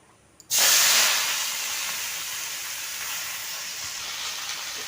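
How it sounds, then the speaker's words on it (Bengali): Ash gourd stalks hit hot oil in a wok with a sudden loud burst of sizzle, which settles into a steady, close hiss of frying with no talk. "এবার চাল কুমড়োর ডুগাটা আমি ভেজে নেব।"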